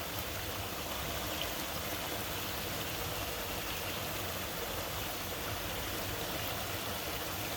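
Steady broadband rush of water flowing outdoors on an Earth Day nature walk, continuous and fairly even like a nearby stream, with no voices.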